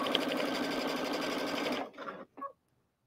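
Home sewing machine stitching a seam while sewing a soft cuddle sack, running steadily and loud for nearly two seconds, then two short bursts as the stitching stops and restarts before falling silent.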